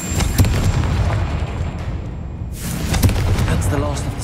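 A fiery Confringo spell explosion in Hogwarts Legacy bursts apart spider egg sacks, booming amid dense rumbling game effects with a whooshing swell and crackle midway, loud and close.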